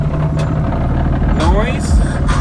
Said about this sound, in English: I know you guys say my car is super loud